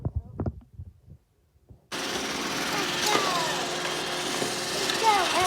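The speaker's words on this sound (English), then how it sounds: "We're going where the robot vacuum's going." A robot vacuum cleaner starts abruptly after a few faint knocks and a moment of quiet, then runs as a continuous, fairly loud whirring hum with brushy rattling.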